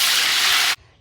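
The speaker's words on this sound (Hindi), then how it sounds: "हम इसमें पानी शामिल करेंगे।" Water gushes steadily into a large cooking pot that already holds ghee, ready for cooking rice, making a loud, broad rushing pour that cuts off abruptly near the end.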